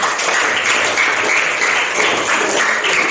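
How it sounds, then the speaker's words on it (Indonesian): A group in a classroom bursts into lively applause, a dense, steady clatter of many hands clapping close by without pause for a few seconds. "Tepuk tangan untuk Tina."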